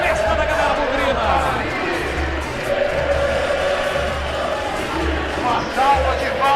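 Guarani football fans celebrate in a stadium, a dense, continuous roar of crowd voices and chanting with steady rhythmic low thumping beneath, loud and enveloping.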